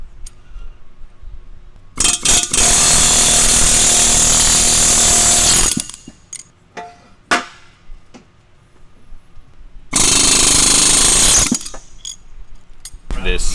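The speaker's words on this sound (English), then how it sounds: "This slide hammer to pull the axle tube seals out" Loud metallic clanging bursts from a slide hammer striking repeatedly while pulling axle tube seals from a Jeep CJ-7 AMC 20 axle, two long sustained stretches separated by sharp single knocks and quieter gaps.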